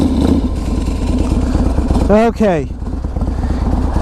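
A 2016 Harley-Davidson Softail Custom rumbles with a loud, pulsing engine and a rising rev as it rides off, while someone talks over the engine noise.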